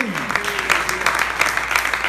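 A church congregation bursts into steady, full applause for the Lord during an evangelical Spanish-language service, a dense clapping wash that carries throughout, with a voice briefly rising over it at the start.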